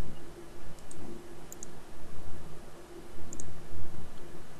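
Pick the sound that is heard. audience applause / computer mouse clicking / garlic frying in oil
computer mouse clicking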